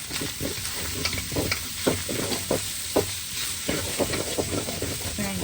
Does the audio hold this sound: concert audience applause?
no